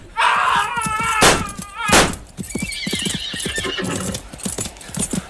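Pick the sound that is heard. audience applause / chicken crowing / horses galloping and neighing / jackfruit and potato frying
horses galloping and neighing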